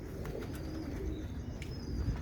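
Heera Laal pigeons coo softly among a flock, low murmuring calls blending into a steady rumbling background with faint chirps, and no speech.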